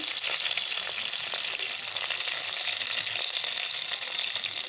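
Curry leaves and green chillies crackle and sizzle in hot oil for a tempering, a dense, steady hiss that holds loud and close without a break, with no voices.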